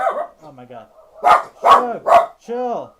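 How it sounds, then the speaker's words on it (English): A pet dog barks indoors, several loud close barks and a yelp between excited human talk. "I'm so sorry about the dog barking."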